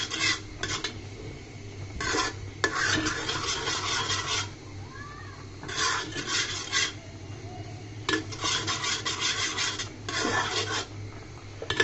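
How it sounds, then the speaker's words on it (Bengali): A spoon stirs sabudana dessert in a pot, giving repeated raspy scraping strokes in bursts with brief pauses between them, close and fairly quiet. "চারিদিক থেকে কাছিয়ে দিয়ে ভালো মতো নেড়ে চেড়ে রান্না করে নিতে হবে 5-7 মিনিটের মতো"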